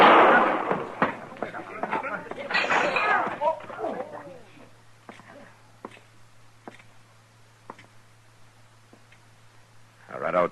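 A sharp gunshot sound effect from a Gunsmoke western radio drama cracks out amid tense voices in a scene, followed by quieter pauses and sparse clicks before talk resumes.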